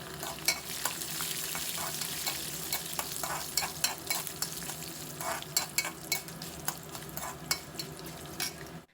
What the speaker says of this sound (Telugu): ఇప్పుడు ఎండుమిర్చి పచ్చిమిర్చిని కూడా వేసేసి ఫ్రై చేద్దాము